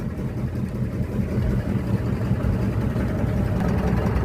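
The small engine of a Liliput ride van idles up close, a steady low rumbling drone that holds even throughout without voices.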